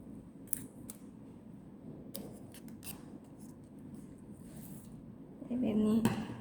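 Scissors snipping paper for a simple primary-school craft, a soft close scraping texture with a few brief crisp cuts, under a quiet room background.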